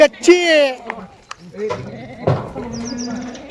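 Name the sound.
Kathiawadi goat bleating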